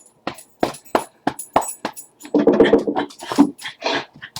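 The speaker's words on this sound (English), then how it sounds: "My dog is trying to go outside." A dog wanting to go outside whimpers and yips in short, high bursts. Soon after, the cries run together into a longer whine. The sound is close and loud, and no one speaks.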